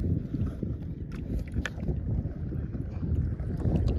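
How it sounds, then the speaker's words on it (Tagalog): Strong wind buffets the microphone at a tilapia fishing spot by the water, a steady loud low rumble with gusty swells and no talk. "Lakas ng hangin."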